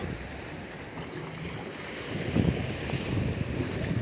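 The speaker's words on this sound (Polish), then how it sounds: "Woda chlupie tutaj pod spodem." Water sloshes and laps below an unfinished concrete pier at Ustka, mixed with gusty wind rumble on the microphone; the splashing grows a little louder midway.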